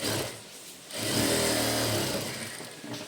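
A sewing machine stitches a small child's blouse, giving a brief whir and then a longer, louder steady run of rapid stitching after a short pause.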